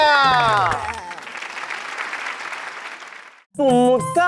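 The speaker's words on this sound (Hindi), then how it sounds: "तालियां।" A short burst of applause from a group, swelling then fading, framed by a person talking before and after.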